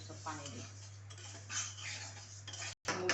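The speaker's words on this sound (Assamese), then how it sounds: "এতিয়া খালি মুগ দালিটো ভাজি লওঁ।" Mung dal dry-roasting in a pan for sago khichdi gives a few quiet metallic clinks and scrapes of a spoon against the pan over a low steady hum, faint and brief.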